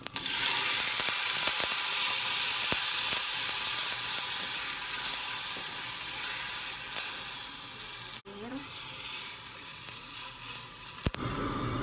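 Garlic and ginger sizzle steadily in a hot pan for a tomato and enoki mushroom soup, a continuous close frying hiss with faint stirring clinks and a brief dip near the end.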